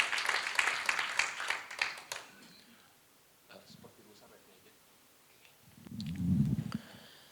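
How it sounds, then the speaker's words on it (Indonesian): A congregation at a midweek church fellowship gives a short burst of clapping that fades after about two seconds, leaving quieter room noise, a faint voice and a low rumble near the end. "Tepuk tangan yang mulia untuk Allah kita"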